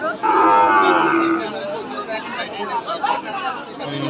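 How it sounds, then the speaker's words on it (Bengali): At a cattle market, a Friesian bull calf gives a loud, close moo, followed by crowd chatter and overlapping voices, with a fainter low call near the end. "অনেক সুন্দর একটা ফিজিয়াম ষাঁড় বাচ্চা"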